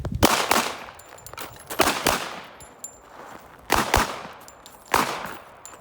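Pistol shots from .45 ACP handguns such as a Ruger SR1911 or HK45 at a shooting range, four sharp loud reports spaced about a second or two apart, each with a short ringing decay and no talk.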